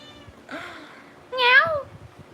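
Two short meows near a calm cat in a home, the first soft and the second louder and closer, with quiet pauses between.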